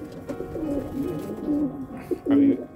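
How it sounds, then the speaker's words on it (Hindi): Pigeons cooing on a small rooftop where a flock of about eighty birds is kept, soft repeated coos close by with a steady low murmur of other birds, ending in a louder burst of cooing. "80 कबूतर छोटी सी छत पे उड़ते हैं"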